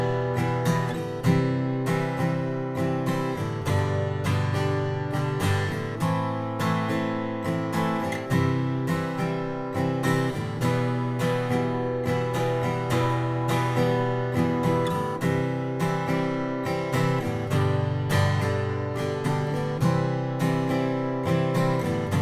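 Strummed acoustic guitar plays the chorus of a song in a beginner arrangement, steady rhythmic chord strokes ringing continuously for over twenty seconds, close and clear with no talking.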